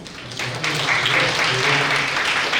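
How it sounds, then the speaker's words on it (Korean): Audience applause at a parents' school gathering, a dense burst of clapping that swells up after a moment and then holds steady at a loud, close level. "우리 박수로"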